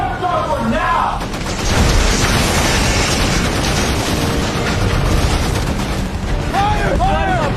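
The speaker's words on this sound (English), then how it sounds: "Depth charge starboard now!" Depth charges exploding in a war film, heavy booming blasts rumbling continuously for several seconds, with shouted voices breaking in at the start and end.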